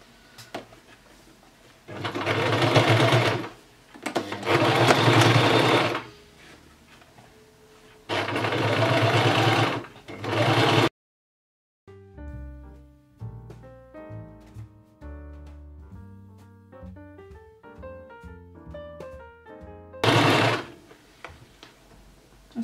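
A sewing machine stitches a trouser hem in loud, rapid whirring bursts separated by short pauses. The bursts drop out for a stretch while music plays, then the machine returns.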